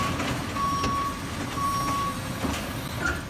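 Garbage truck in an animated short, its reversing alarm giving steady spaced beeps over a rumbling engine and low mechanical noise, continuous and fairly close.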